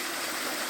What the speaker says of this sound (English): We're now at the fourth of the overall waterfalls on Crowden Little Brook.